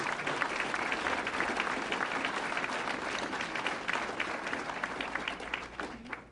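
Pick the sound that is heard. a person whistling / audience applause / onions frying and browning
audience applause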